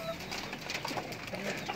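Racing pigeons, four birds in a loft being fed, coo softly and steadily through a short stretch of busy background noise with faint bird calls.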